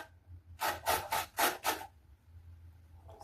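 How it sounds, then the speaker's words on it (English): Raw beetroot is shredded on a hand grater in five quick rasping strokes, close and crisp, each a rough scraping burst, followed by a short quiet pause, with no talking. "I'm gonna use my grater to shred the beet"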